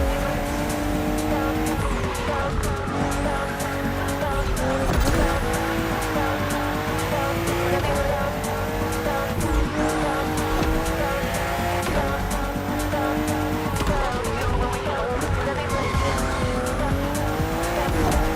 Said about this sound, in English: we put you behind the wheel of the fastest production car BMW has ever made, the M4 CSL